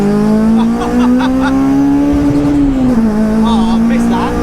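Carbon-bodied Honda Civic Type R EP3 track car with a high-revving naturally aspirated engine, a loud sustained engine drone held under load and rising and dipping in pitch, heard from inside with someone talking over it.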